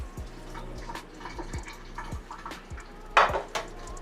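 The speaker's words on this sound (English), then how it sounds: "I want to pour some of the broth off" Broth pours and splashes from the pot of a Power Air Fryer Oven, with soft clinks of cookware and a burst of sloshing near the end.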